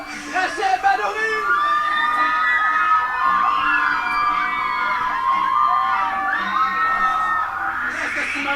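A crowd cheers and whoops at a comedy gala, a steady wash of shouting voices that swells and holds throughout, with high shrill yells standing out above the mass.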